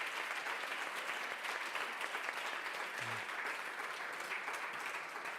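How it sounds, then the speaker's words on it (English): Sustained applause from a crowd, steady and dense clapping throughout with no break. "perhaps we can give him a round of applause"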